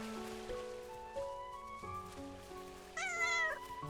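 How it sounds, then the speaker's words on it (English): Cat meowing in the Little Witch in the Woods video game, a single high mew near the end over a gentle tonal game music bed. "Meow."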